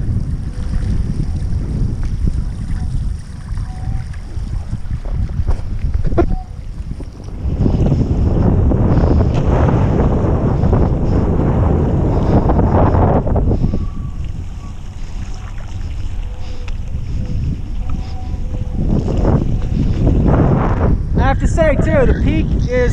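Strong wind roars across the microphone while kitesurfing with a hydrofoil kite setup on open water, loud and steady with gusty swells, and a brief splashy burst near the end.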